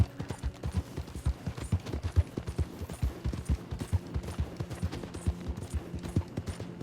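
Horse hooves clip-clop steadily and rapidly in Red Dead Online, a dense galloping rhythm of low thuds running throughout without any speech.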